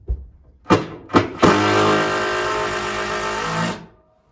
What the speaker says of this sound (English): I'll drive some screws through the hatch wall into this